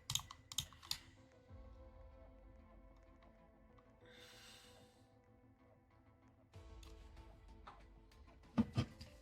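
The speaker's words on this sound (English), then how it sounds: "is typing furiously right now, as fast as she can" Fast, furious typing on a computer keyboard during a game: a steady stream of close, dense key clicks with a few louder taps, running with no voices heard.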